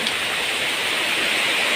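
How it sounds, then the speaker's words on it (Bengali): Heavy pouring rain during a Kalbaishakhi storm in a village, a loud, dense, unbroken hiss of rain close by with no talking. "প্রচুর বৃষ্টি পড়তেছে"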